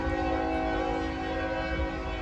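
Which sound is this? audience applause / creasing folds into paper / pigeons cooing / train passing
train passing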